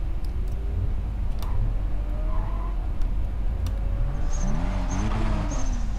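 A Toyota Supra engine in the racing game Need for Speed Undercover, a low steady drone with rising gear-change sweeps and clicky interface ticks over the top, fairly loud and continuous.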